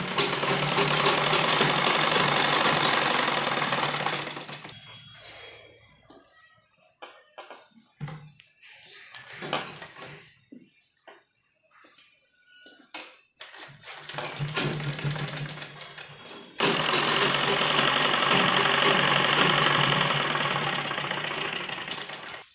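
A sewing machine stitches fabric for a newborn baby's dress. Long runs of loud, steady mechanical whirring open and close the passage, and a stretch of quieter handling and small knocks comes between them.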